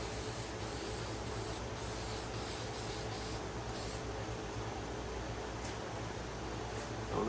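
Zinsser Bulls Eye shellac spray hissing steadily from an aerosol can as it coats a guitar body, a close, continuous spray with slight pulses and no voices.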